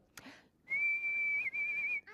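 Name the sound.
person whistling high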